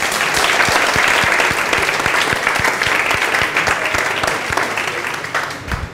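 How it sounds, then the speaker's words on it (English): Lecture hall audience applauding a guest at a university talk on success, dense sustained clapping at steady loudness for the whole stretch, with a few sharper close claps standing out near the front and no voices over it. "huge round of applause?"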